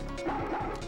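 Scud, the dog in the video game Disney's Toy Story, lets out a quick pair of close, gruff bow-wow barks within under a second, over steady game background sound.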